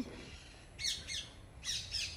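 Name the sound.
parrots squawking at a mini zoo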